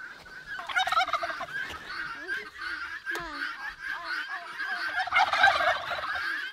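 Turkeys gobble repeatedly on a farm that also keeps guinea fowl, chickens and geese, in loud overlapping bursts with a busy flock chorus throughout and a sharp call near the middle.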